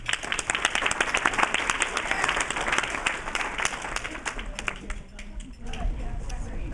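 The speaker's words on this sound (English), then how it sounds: "let's give them one more hand of applause for that" Audience applause at a youth sports awards event, fairly loud and continuous clapping that thins and fades near the end, with crowd chatter mixed in.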